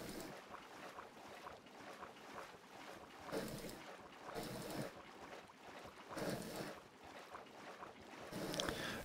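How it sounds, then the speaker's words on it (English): A Minecraft water bucket is spam-clicked while the player is underwater, a muffled watery wash that rises and falls in repeated bursts, faint, with no talking. "if you don't know, you can just spam click with a water bucket."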